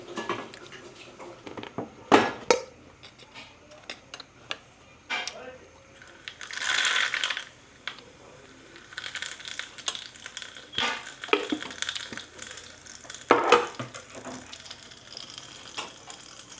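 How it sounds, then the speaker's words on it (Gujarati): Dal with almonds being tempered in a pot as a temple offering gives off short sizzling bursts and occasional utensil clinks, fairly quiet with gaps between them. "તો આપણે અહીંયા દાળ વઘારવાનું ચાલુ કરી દીધું છે."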